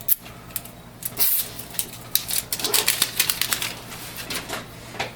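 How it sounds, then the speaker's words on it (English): Protective plastic is peeled off an HP ink cartridge for a Photosmart 6520 printer, close crinkling and sharp crackling tears in quick irregular bursts, busiest in the middle. "We have to peel this plastic off."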